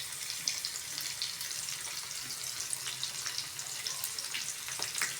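Capsicum sizzles and fries in a pan, a quiet, steady crackling hiss dotted with small sharp pops, heard alone without speech.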